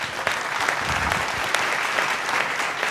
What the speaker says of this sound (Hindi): एक बार आचार्य जी के लिए जोरदार तालियां दे दीजिए।